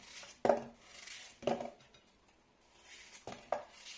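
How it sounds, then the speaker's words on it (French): Apples are roughly chopped on a board, with four sharp knife strikes at uneven intervals in an otherwise quiet kitchen. "Les pommes, on va les couper grossièrement."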